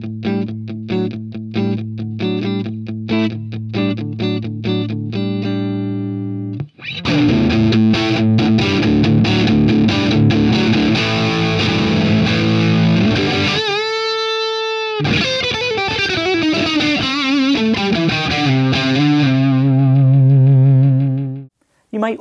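Electric guitar played through an amp's overdrive channel, heavy distorted chords and riffs after a cleaner opening passage, loud and sustained throughout with a brief pause near the end.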